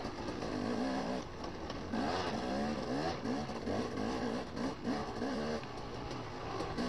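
A 2014 Gas Gas 300 two-stroke dirt bike engine revs hard and continuously through a rough section of a hare scramble trail ride, the pitch rising and falling with throttle, loud and close throughout.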